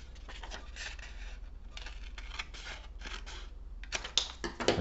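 Scissors cut through a folded square of origami paper, a run of close, crisp snipping bursts with brief pauses, growing sharper and louder near the end.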